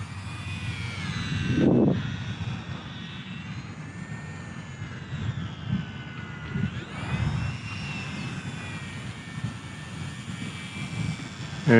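Small Eachine Mini P-47 RC warbird plane flying outdoors, its electric motor and propeller giving a thin, wavering buzz that rises and falls as it passes, moderately distant with faint wind.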